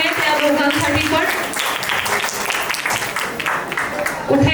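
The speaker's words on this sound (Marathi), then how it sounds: "टाळ्या वाजवायच्या आहेत त्या दोघांसाठी पण" Audience applause at an anniversary celebration, a steady wash of clapping from a crowd lasting the whole few seconds, fairly loud and close, with voices mixed in.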